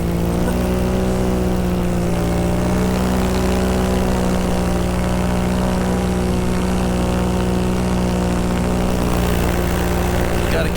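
Small propeller airplane engine droning steadily in turbulent flight while crabbing sideways, a loud continuous cabin hum with unchanging pitch throughout.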